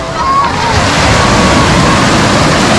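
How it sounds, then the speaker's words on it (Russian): Waves wash continuously onto the Black Sea shore at Lazarevskoye, Sochi, a loud, steady surf roar close by with no voices. "Этот дневной обзор я начинаю прямо на самом берегу Черного моря."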